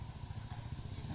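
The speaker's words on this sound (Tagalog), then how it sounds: "May mga dumadaan po dito na mga motor" A motorcycle engine rumbles close by on a muddy road under construction, a steady low drone running through the whole moment with a faint clatter.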